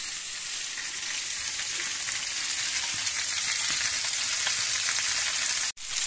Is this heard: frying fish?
yes